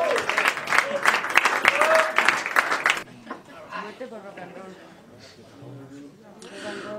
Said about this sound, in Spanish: Otro aplauso a Joaquín Berro, la batería.